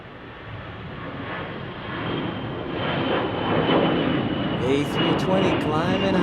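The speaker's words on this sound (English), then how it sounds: "A320 climbing high" An Airbus A320 jet climbs away after takeoff, its engine roar swelling and staying loud and distant-sounding, with radio chatter and voices over it near the end.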